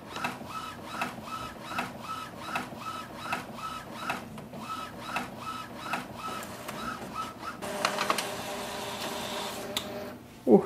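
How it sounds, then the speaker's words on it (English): An Epson WF4830 inkjet printer runs off a nozzle check sheet, its printhead carriage shuttling back and forth in a steady repeating rhythm, then a denser whirring feed near the end and a clunk as the page ejects; close and moderately loud, with no voices. "Let's print the nozzle check sheet again."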